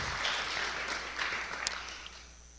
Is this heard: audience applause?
yes